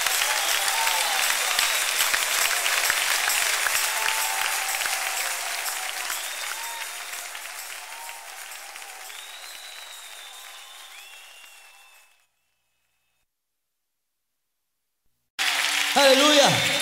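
A church congregation claps in praise, dense sustained applause that gradually fades, falls silent for a few seconds, then bursts back loudly at the end, with voices faintly mixed in.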